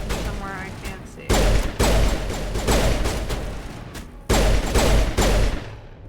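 Gunfire in the Mass Effect video game: loud bursts of rapid shots come in several blasts, heavy and close, with a voice briefly heard between them.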